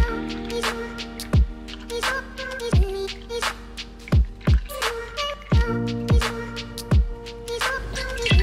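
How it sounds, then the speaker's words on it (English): Liquid dripping through a kitchen strainer as it is strained, heard as a string of distinct wet drops falling at an uneven pace, some close together and some spaced apart, with a faint watery background between them. "you're going to strain the liquid now through that"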